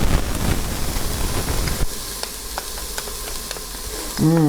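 Garlic added to a hot pot for vegan lentil soup: a loud sizzle at first that drops to a quieter hiss after about two seconds, with faint crackles, then a voice briefly at the end.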